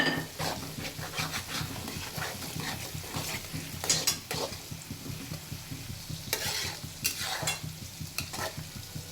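Masala rice frying and being stirred in a pan, a steady close sizzle with repeated scraping and clinks of a spoon against the metal, a few louder stirring strokes standing out, no talking.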